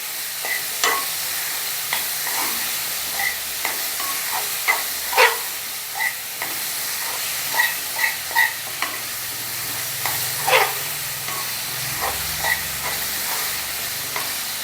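Water apple pickle being sautéed on a low flame, a soft steady sizzle and hiss under repeated spoon scrapes and light clinks against the pan, spaced irregularly.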